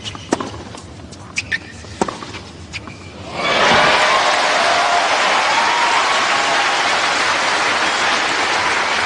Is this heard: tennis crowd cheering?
yes